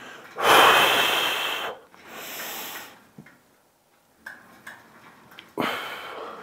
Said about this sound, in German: Beim Rausgehen ausatmen, wenn ihr ranzieht.